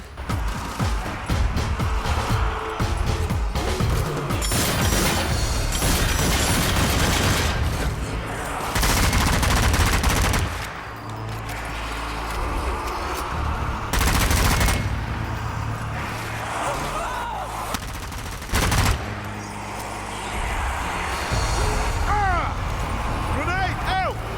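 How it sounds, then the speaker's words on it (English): Rapid gunfire from shooting at zombie hordes in the video game Zombie Army 4, dense near-continuous bursts with game music and effects, while a player talks over the action. "I just know that there's a bunch of zombies over there, so I'm just shooting in that vicinity."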